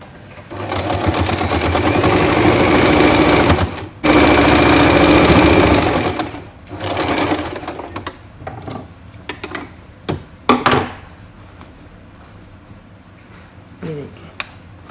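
A sewing machine stitching the waist seam of a pair of pants runs in two long steady bursts with a short break, then gives a few short stops and starts and clicks before falling quiet.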